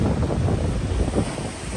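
Strong waves breaking at White Beach, Boracay, during the habagat season, a steady broadband roar heavy with wind buffeting the microphone, continuous and loud with no voices.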